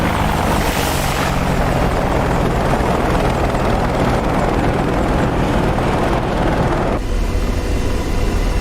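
An Apache AH-64D helicopter roars past in a DCS World flight game over the Marianas, a loud, constant rotor and turbine wash filling every moment with only a slight shift in tone near the end.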